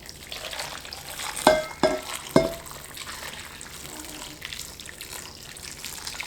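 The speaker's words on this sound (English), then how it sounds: "So now my broth looks red. And we're just gonna pour this right on in." Red broth poured into a crock pot gives a soft, steady liquid rush with a few sharper splashes and clunks near the start, close by and alone.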